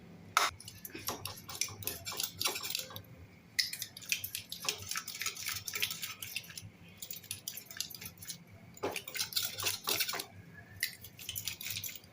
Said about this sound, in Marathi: थोडं असं पळीने मॅश करून घ्यायचं की पळीने दाबून घ्यायचा व्यवस्थित किंवा मग असं मध्ये मध्ये रवी फिरवायची